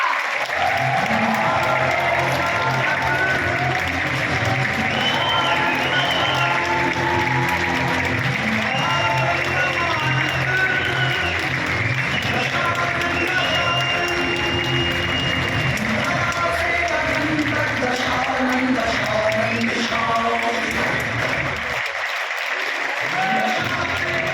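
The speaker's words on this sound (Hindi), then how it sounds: "तो आइए जोरदार तालियों से स्वागत कीजिए" An audience at a stage performance applauds to welcome an actor, a dense, steady roar of clapping from many hands lasting over twenty seconds, loud and close, with scattered cheers and crowd voices mixed in.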